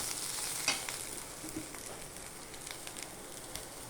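Masala for egg curry sizzling and frying in a pan, a steady close hiss with occasional stirring knocks, no talking.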